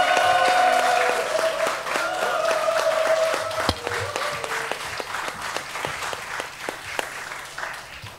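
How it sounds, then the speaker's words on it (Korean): A church congregation claps and cheers in welcome as the pastor comes forward, a dense, sustained burst of applause with shouts that eases slightly toward the end. "목사님 환영하는 마음으로 박수하고 함성으로 모십니다"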